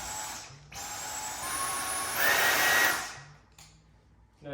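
A Dyson cordless battery-powered vacuum cleaner runs close by with a steady high whine, stepping up in intensity as settings change, then briefly cutting off and restarting.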